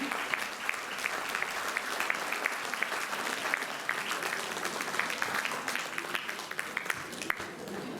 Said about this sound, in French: Sous vos applaudissements pour la rentrée en scène